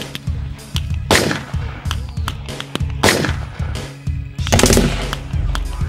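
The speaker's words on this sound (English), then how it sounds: "The rapid firing German machine gun opened upon us." A German machine gun fires rapidly and loudly in close, repeated bursts, with heavy booming blasts mixed into the chatter of the shots.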